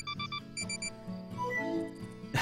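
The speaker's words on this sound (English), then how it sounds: "Kusu stopped mid-sentence and emitted an odd beeping noise." Odd electronic beeping from a character in the visual novel Asagao Academy: Normal Boots Club, a run of short, evenly spaced bright beeps over a light musical backing, then a lower melodic tone, fairly loud and clear with no talking.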